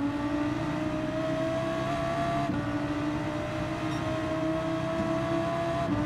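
Race car engines in Gran Turismo 7 hold a steady, loud, unbroken drone that stays at nearly constant pitch throughout, with no voices over it.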